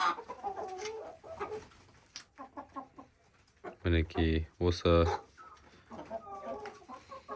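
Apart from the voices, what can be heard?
hens clucking in a chicken coop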